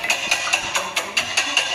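Eggs being whisked in a bowl for cupcake batter, a quick run of about nine regular bright taps and swishes, close and alone.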